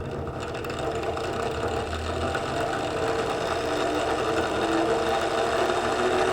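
A honey extractor starts up slowly, giving a steady whirring mechanical hum with a faint rattle that holds even throughout, with no talk over it.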